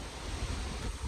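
Wind gusts across the microphone outdoors along the highway, a close, steady rushing buffet with no voices.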